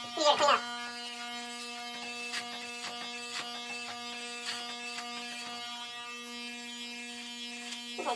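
Electric hair clippers hum with a steady buzz while cutting hair on the side of the head during a home haircut, with small crunching bursts as they move through hair.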